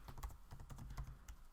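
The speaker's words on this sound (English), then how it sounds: "typing it out" Rapid typing on a computer keyboard, a quiet, close stream of irregular key clicks and thumps over about a second and a half, with no one speaking.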